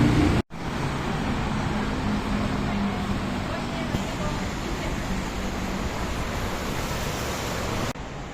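Street traffic near a station, a steady loud roadway rumble like passing cars that fills the whole stretch, with one brief dropout near the start.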